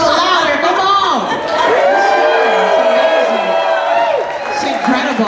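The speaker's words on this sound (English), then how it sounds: "If you cheer a little louder, come on!" Crowd at a MAMA Awards show venue cheering and whooping loudly throughout, a dense sustained roar with an amplified voice calling out over it.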